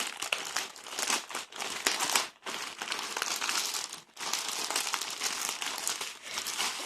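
A crinkly paper toy-magazine package rustles and crumples loudly and continuously as it is unwrapped close by, with brief pauses between handfuls.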